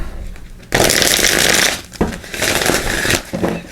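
A deck of tarot cards being shuffled in a few quick riffling bursts, close and crisp, with short pauses between them.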